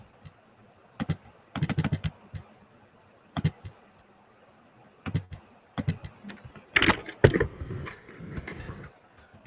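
Computer keyboard typing commands in a Git terminal session, a scattering of soft, close key clicks in short uneven bursts over a quiet room hum.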